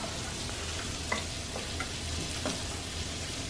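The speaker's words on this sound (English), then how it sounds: "I got my butter, my 4 pieces of American cheese. Now I'm just going to stir this up." Butter and four slices of American cheese are stirred together in a pan. A steady soft sizzle runs throughout, broken by a few light scrapes of the utensil.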